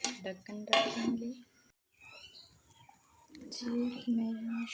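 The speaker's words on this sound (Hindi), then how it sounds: "ढक्कन रखेंगे।" A lid set down on a cooking pot of potato chicken shorba, giving a brief metallic clink amid kitchen clatter of dishes and utensils, with someone speaking softly before and after.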